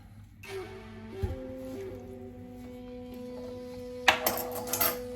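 Chicken with mirin and sugar is stirred in a pot for miso nikomi udon, with soft clinks and knocks of a utensil against the pot over a low steady hum, a sharper scrape near the end.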